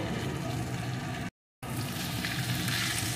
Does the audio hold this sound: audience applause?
no